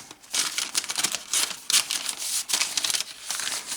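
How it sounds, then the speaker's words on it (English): Lined paper for a patchwork journal crinkles and rustles in close, uneven bursts as sheets are handled, with no talk. "And lined paper."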